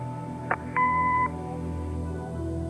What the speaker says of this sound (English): Leave a message after the beep